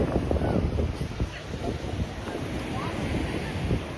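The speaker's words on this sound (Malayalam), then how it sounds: "the Calicut beach" Surf and gusty wind at Calicut beach in Kozhikode, a steady broadband rush with wind buffeting the microphone and no clear voices.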